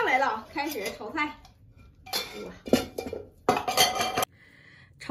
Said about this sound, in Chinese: 火上来了，开始炒菜。